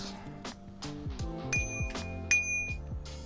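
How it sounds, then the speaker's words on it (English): Small pedestrian bicycle bell from an Ariel Rider X-Class e-bike, struck twice in a bright metallic ding with ringing overtones, heard over a background of music. "A little pedestrian bell."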